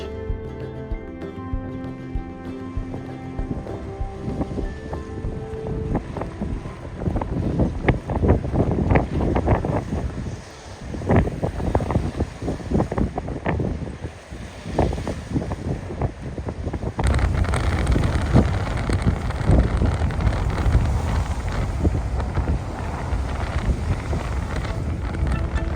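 Strong gusty wind by a lake buffets the microphone in loud, rumbling bursts, easing briefly before blowing harder again.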